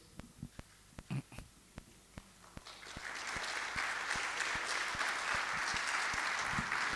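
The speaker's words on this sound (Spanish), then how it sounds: "Damos un aplauso a nuestro hermano y psicólogo Daniel" An audience at a mental health congress depression workshop applauds a psychologist: a few scattered, separate claps at first, then a full, sustained round of applause that swells and stays steady.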